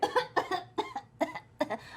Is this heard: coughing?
yes